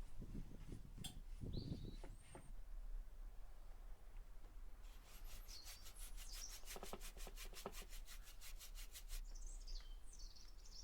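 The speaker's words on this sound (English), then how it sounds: "I removed the excess oil with a cloth" A cloth wipes boiled linseed oil across the wood of a homemade furniture dolly, making soft, quiet rubbing strokes that settle into a quick, steady back-and-forth rhythm partway through.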